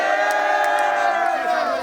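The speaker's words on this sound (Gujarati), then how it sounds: "શું આજે એમના માટે તાળીઓ થઈ જાય?" A crowd at a carnival-themed party cheers and shouts together in a dense, loud, sustained roar of voices with whoops rising above it.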